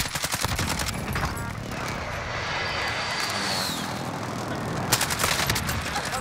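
An artillery strike in Call of Duty: Modern Warfare: a loud, sustained roar of incoming aircraft and rumbling fire fills the scene for several seconds, with sharper bursts at the start and again near the end.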